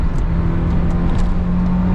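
A 1991 BMW 318i E30 engine at full throttle while merging onto an interstate highway, heard from inside the car as a loud, steady, droning hum with constant road roar and no talking.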